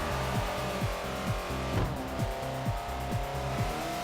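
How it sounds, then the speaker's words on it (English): A car drifts in Forza Motorsport 4, its engine revving steadily while the rear tyres squeal and skid through the turn, a loud continuous engine drone broken by rhythmic gear and throttle surges. "Lock up the back wheels, give it a bit of power over, bit of counter steer to catch, follow it through on the turn."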